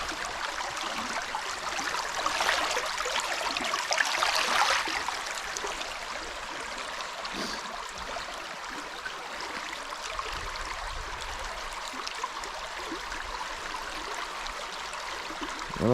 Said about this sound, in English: just from dipping it in the water in the river